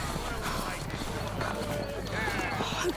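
Horse hooves galloping off the road in a foggy radio drama scene, a fast steady clip-clop rhythm that runs throughout the clip, close and moderately loud.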